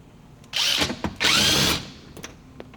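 A power tool such as a drill or impact driver backs out a 10 mm bolt holding the hybrid battery of a 2010–2015 Toyota Prius, with two loud whirring bursts close by, separated by a short pause and followed by a few small clicks.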